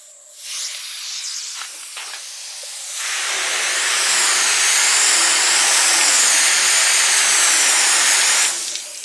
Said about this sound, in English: we're just going to hose that off